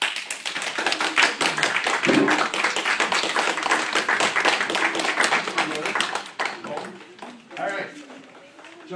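An audience at a comic convention hypnotism show claps loudly after the demonstration, brisk close-up applause that thins out near the end while people talk over it.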